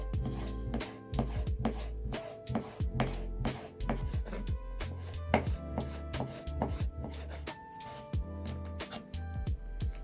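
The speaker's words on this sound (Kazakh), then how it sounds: "Енді осы кеспемізді жақсылап майдалап турап аламыз." A knife chops rolled-out noodle dough for Kazakh kespe soup on a board in quick, steady strokes, close and crisp, with no talking.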